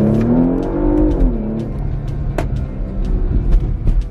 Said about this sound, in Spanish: Quiero que escuchen un poco la respuesta del motor en el Sport Plus.